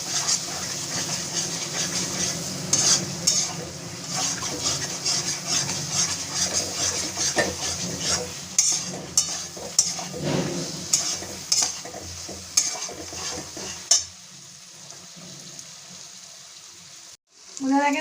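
Mushrooms stirred and fried in a spicy masala with repeated spatula scrapes and clatters over a continuous oily sizzle, growing sparser and quieter toward the end before a final clank.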